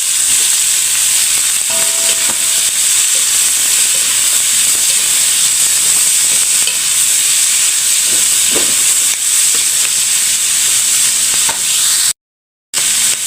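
Squid and large green chilies with tomato sizzle loudly in a hot pan, a steady close hiss of frying that runs without pause until a brief cut near the end, no voices over it.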